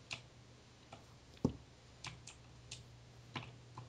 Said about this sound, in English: I have a mechanical keyboard. Get over it. It's so loud.